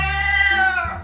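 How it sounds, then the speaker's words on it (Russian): A recording of a cat plays for dogs, one clear, close meow that rises and then falls away within about a second. "Есть различные звуки кошек"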